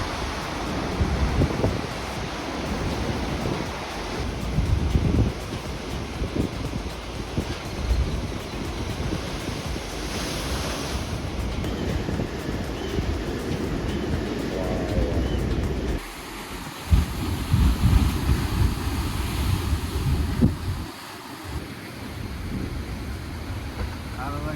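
Ocean surf and gusting wind at Thor's Well on the Oregon coast at low tide, a continuous roar of waves and wind buffeting the microphone, with a louder surge partway through and people talking intermittently.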